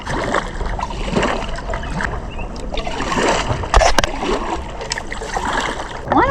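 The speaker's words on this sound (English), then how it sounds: "I've been paddling upriver for 2 hours" A boat is paddled upriver on the Wisconsin River at Portage, with steady close splashing and water swirling against the hull, paddle strokes dipping repeatedly in a continuous wash of moving water.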